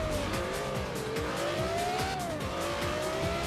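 Porsche Carrera GT engine in Forza Horizon 4, a steady high-revving drone that rises and falls through gear changes, with tire squeal and a dense, continuous racing roar throughout.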